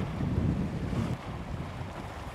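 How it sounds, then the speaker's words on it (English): Wind buffets a fishing boat on Ray Hubbard Lake in Texas, a steady low rumble of gusts against the microphone that eases slightly partway through, with no talking. "we're out here rocking and rolling in some wind"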